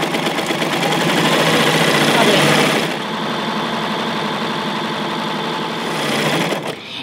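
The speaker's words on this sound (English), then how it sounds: "just continue serging on your 2 layers of fabric until the end" A serger sewing two layers of sheer scarf fabric runs at a steady fast whir, close and loud with a continuous rapid mechanical patter that eases slightly partway through, then stops abruptly at the end.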